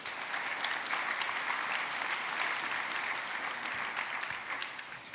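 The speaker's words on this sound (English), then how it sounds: "So a warm round of applause for Thomas Fraunholz and Sandro Bauer." Conference audience gives a warm round of applause to welcome two speakers at a security talk, a steady, full wash of clapping that holds evenly and tapers slightly toward the end, with no talking.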